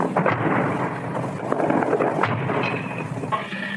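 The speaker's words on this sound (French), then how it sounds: "Vous pouvez entendre les sifflements des B-20 passer au-dessus de l'hôtel." Wartime din over central Amman during the 1970 Black September fighting, with B-20 aircraft whistling overhead: rumbling, thunder-like booms of explosions and a rising whistle, loud and continuous with no voices.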